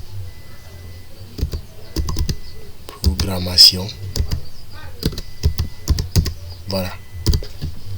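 Someone types on a computer keyboard while programming in Python, giving a close run of clicking keystrokes in uneven bursts, partly under someone speaking French.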